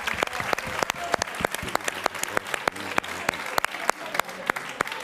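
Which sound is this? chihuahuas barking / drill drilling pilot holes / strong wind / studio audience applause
studio audience applause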